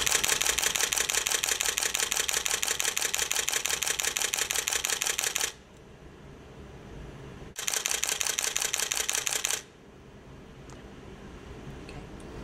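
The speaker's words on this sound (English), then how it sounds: "By selecting continuous shooting mode high mode, we can see the 6 frames per second in action." Rapid burst of Nikon D300 shutter clicks fired in continuous high mode at 6 frames per second, a dense loud run of about five seconds, a pause, then a second two-second burst, with no voices.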